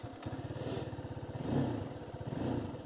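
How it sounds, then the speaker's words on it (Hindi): A TVS Apache RTR 310 sport motorcycle engine catches and settles into a steady idle, with a brief throttle blip partway through, heard up close. "बाइक को स्टार्ट करते हैं"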